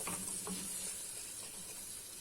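Grated garlic sautéing in a pan for rice and spinach, a soft continuous sizzle with a few light stirring clinks at the start.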